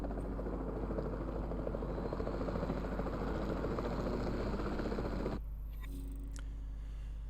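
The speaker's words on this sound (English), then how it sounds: "the sensible thing is to take a capture team helicopter" Capture team helicopter in Jurassic World Evolution 2 drones with a steady, close rotor and engine roar for about five seconds, then drops abruptly to a much quieter low hum with faint game sounds.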